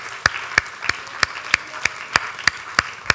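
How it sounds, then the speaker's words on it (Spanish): A church congregation at a Spanish-language worship service claps in a slow, even rhythm, about ten sharp, distinct claps at regular intervals over a quiet room background. "denle un aplauso al Señor y regocije con lo que Dios va a hacer para su vida"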